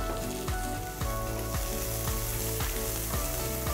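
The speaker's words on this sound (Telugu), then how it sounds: "ఆ తర్వాత చిన్నగా తరిగిన 2 ఉల్లిపాయల్ని ఇందులో వేస్తున్నాను." Chopped onions frying in hot oil with bay leaf, cardamom, cloves, cinnamon and mace for a bhindi masala gravy, giving a loud, steady close sizzle with rhythmic scraping stirs.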